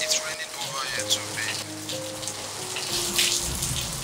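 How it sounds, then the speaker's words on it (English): Steady rain patters on a surface with a continuous hiss, close by, while a soft tonal hum runs underneath. "Baby, it's raining,"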